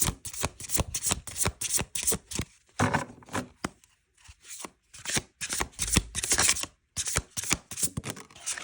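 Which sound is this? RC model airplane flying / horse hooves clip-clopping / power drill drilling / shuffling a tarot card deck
shuffling a tarot card deck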